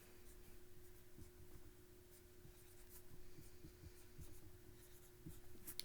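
Pen strokes scratch steadily across paper as the word quadrilateral is written out during a math lesson, a soft continuous rubbing with small ticks, close and quiet, with no talk.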